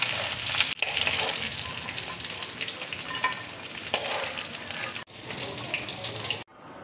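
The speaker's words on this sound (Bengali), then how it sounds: "পনিরটা দেখো ভাজা হয়ে গেছে" Paneer fries in hot oil in a pan, giving a loud, steady crackling sizzle that fills the clip and is broken by a couple of brief cuts.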